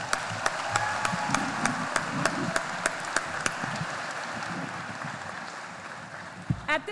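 Graduation audience at a Forsyth Central High School ceremony claps in a dense, steady wave with a few sharp individual claps standing out, easing off slightly near the end.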